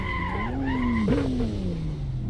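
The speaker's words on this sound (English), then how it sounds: "Losing traction, the car's just drifting all over the place." Simulated car drifting in Assetto Corsa, a Mercedes or Porsche, with tires squealing in a long, loud, continuous wail that bends in pitch over the steady drone of the engine.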